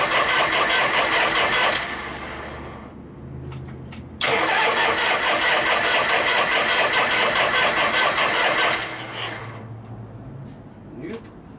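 A 1973 Harley-Davidson Shovelhead motorcycle engine cranks and catches with a loud, close rumble, cuts out, then fires again and runs rough, with people talking nearby.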